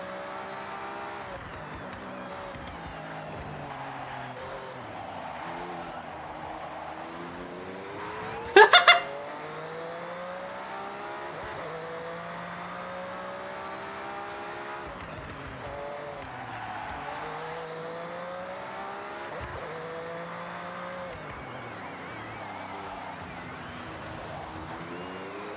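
A Ford RS200 on off-road tyres roars through a racing video game, its engine note rising and falling through gear changes. A brief sharp burst of impact or skid noise comes midway, and the engine stays at a moderate level throughout.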